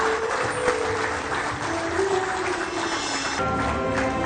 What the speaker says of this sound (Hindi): आप सबकी तरफ से हम सभी के लिए तालियां हो जोरदार।